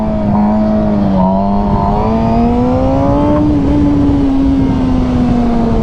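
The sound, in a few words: motorcycle engine revving during a clutch-up wheelie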